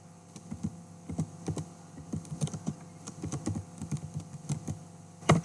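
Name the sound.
typing a command on a computer keyboard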